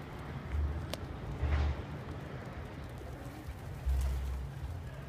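Young homing pigeons in a backyard loft coop in Brooklyn give low, soft coos in three separate bursts, close by, over a quiet outdoor background.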